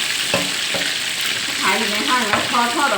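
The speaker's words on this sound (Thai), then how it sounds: "ทอดให้มันได้ที่แล้วเวลาสับมันก็จะได้ไม่ติดกระทะเนาะ" Filleted sea bass (barramundi) fries loudly in a pan, a dense, crackling sizzle with periodic scraping and clinking from stirring, and someone talks over it in the later part.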